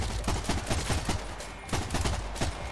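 Rapid gunfire in a first-person shooter heist game set in Rockay City, repeated bursts of sharp shots in a fast stuttering rhythm, close and fairly loud with no talk.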